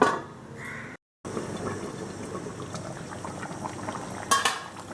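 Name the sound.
chicken roast curry boiling in covered pot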